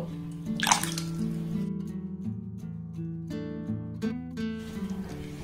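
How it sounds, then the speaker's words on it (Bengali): Grapes are rinsed under running water, with splashing and trickling over a steady tonal background that continues throughout. "আঙুরটাকে প্রথমে এইভাবে জল দিয়ে খুব ভালোভাবে ধুয়ে নেব।"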